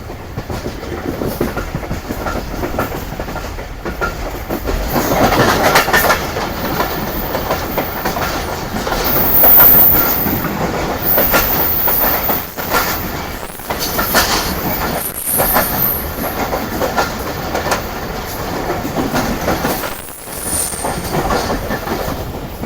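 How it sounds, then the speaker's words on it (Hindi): A train passes on the down track beside a moving Rehman Baba Express economy-class carriage, a loud continuous rumble with clattering wheels, squeals and sharp rushes of passing cars throughout, no talking. "बस ये डाउन ट्रैक पर भी कोई ट्रेन आ गई है भाई"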